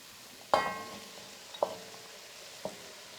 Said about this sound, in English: the onion and the carrots are soft, I'm just going to add the beetroot